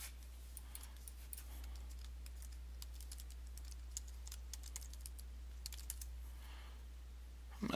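Steady clicking of keys on a computer keyboard, a run of light irregular taps at moderate distance over a faint constant hum, with no voices.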